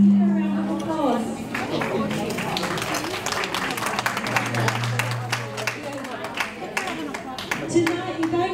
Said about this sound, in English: we would like to give a big thanks to the event organiser Gingy. A round of applause.